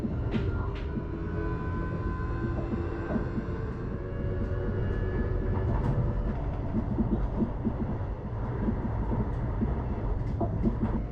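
An ICNG InterCity New Generation train runs through the Dutch countryside between North Holland and Flevoland, heard as a steady low rumble inside the carriage with faint rhythmic rail clicks and hiss throughout.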